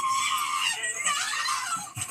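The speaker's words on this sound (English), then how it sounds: "she was just screaming, shrieking at the top of her lungs" A woman screams and shrieks at full volume while being arrested and forced into a police car, with sustained high-pitched cries running almost the whole time and a short break near the end.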